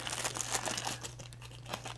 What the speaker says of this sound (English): vintage plastic bag.